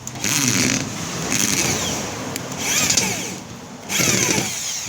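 A power drill whirs in several bursts, spinning up and easing off as a screw is driven into sheet metal patching a washing machine, loud and close, with no voices.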